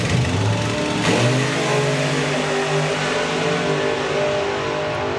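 A Volkswagen Beetle and a Toyota Supra launch side by side at a drag strip during a Bug Jam festival, engines revving hard with rising, overlapping roars close by.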